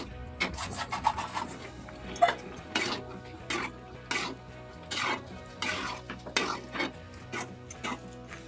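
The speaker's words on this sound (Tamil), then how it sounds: "வெந்த உடனே நம்ம இந்த ரவையை போட்டு கிண்டிக்கலாம்" Semolina (rava) for kichadi being stirred in a pan with cooked vegetables, a quiet, repeated scraping and rubbing of the spoon against the pan in an uneven rhythm, with no voices.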